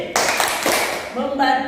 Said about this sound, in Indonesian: Tepuk literasi, lihat ibu ya. Tepuk literasi.